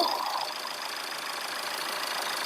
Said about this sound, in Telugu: ఇంజిన్ స్టార్ట్ చేశానండి ఇంజిన్ రన్నింగ్ కూడా స్మూత్ కండిషన్లోనే ఉంది